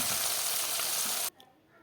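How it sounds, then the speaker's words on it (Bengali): Chapila fish dropped into hot oil in a wok, giving a loud, dense, steady sizzle that cuts off abruptly near the end, leaving a quieter faint hiss. "তেলটা গরম হয়ে গেল এখন মাছগুলো দিয়ে দেব মাছগুলো কিছু ভেজে নামিয়ে নেব"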